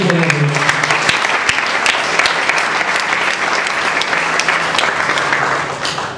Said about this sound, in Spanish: Denle un aplauso a todos.